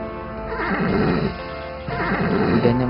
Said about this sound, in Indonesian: kudanya meronta-ronta